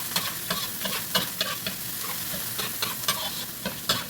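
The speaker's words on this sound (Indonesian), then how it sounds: "Tumis-tumis dulu bawangnya sampai layu." Chopped shallots and garlic sauté in hot oil in a home kitchen, giving a steady close sizzle broken by repeated scraping stirs of a utensil against the pan.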